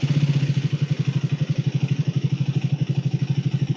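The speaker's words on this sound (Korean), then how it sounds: "자, 그러면 시동을 한번 켜보도록 하겠습니다." A Triumph Speed 400 motorcycle engine runs at a low warmed-up idle, a steady close thumping pulse with an even, quick rhythm and no talking.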